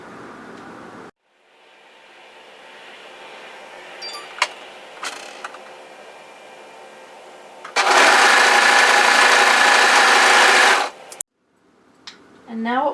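An overlocker sews along the unnotched edge of a fitted tee's cuff in a steady, loud whirring burst of about three seconds, framed by quieter handling noises and brief light clicks before and after.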